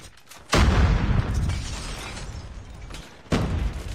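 A grenade bursts in a ranked match of a first-person shooter with a loud, close blast and a long crumbling rumble, then a second sharp burst near the end.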